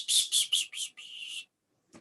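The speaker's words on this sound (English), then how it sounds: "Perhaps the commonest is the Willow Warbler. It's got a descending song." Willow Warbler song in spring woodland scrub: a clear run of about five bright, high notes stepping downward and fading out within a second and a half, loud and close, followed by a brief soft rustle.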